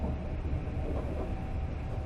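A train in the Fear Equation video game rolls along its tracks with a steady, low, droning rumble that stays even throughout, and no voices are heard.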